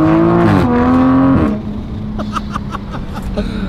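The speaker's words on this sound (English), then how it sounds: "when we turn this corner, we're gonna have to get into the throttle a little bit" A 2020 Toyota Supra engine revs up loudly in close range, its pitch climbing through a gear before easing off to a lower, steady drone as the car settles, with faint talk.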